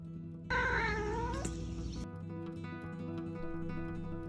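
A cat meows loudly and close, one long drawn-out caterwauling cry lasting about a second and a half, followed by a faint short yowl over a steady low hum of room noise.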